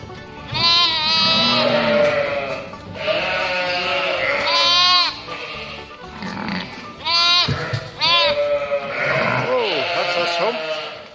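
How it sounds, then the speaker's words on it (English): Sheep and their lambs bleating in a pen at worm-dosing time, with many overlapping wavering calls from several animals, loud and close, repeating in bursts throughout while a person talks underneath. "when the sheep come into the pen with their lambs, we dose them for worms"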